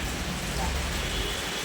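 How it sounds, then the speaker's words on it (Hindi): Rain falls steadily in a short burst of dense, even hiss with low rumbling underneath, and faint talk may be mixed in. "और मेरा अभी देखिए इधर बारिश हो रहा है।"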